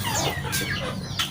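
Chickens clucking in a small play area beside rearing coops, short overlapping clucks and calls close by against a steady low background.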